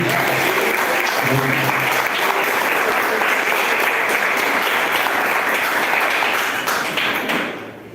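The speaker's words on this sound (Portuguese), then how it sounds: "Dá uma salva de palmas para Jesus." Church congregation breaking into sustained, dense applause for Jesus at a Portuguese-language service, loud and continuous for several seconds before fading out at the end.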